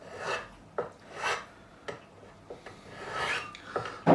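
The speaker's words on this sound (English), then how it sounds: "We're going to polish these frets with 6 different grits of sandpaper" Sandpaper rasps over the frets of a Michael Kelly Patriot Premium guitar during a refret, in several separate rubbing strokes with short scrapes between them, close up and with no voices.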